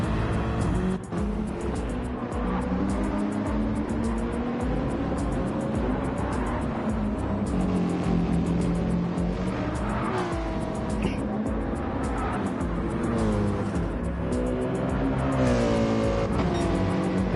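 Race cars in a GR3 sim-racing event, a BMW among them, engines droning and revving continuously at close range with cars passing and pitch rising and falling, loud throughout under faint commentary.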